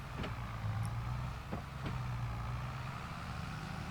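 Zetor tractor engine driving in Farming Simulator 22, a steady low rumbling drone with a faint rise and a few light clicks, moderately quiet and continuous.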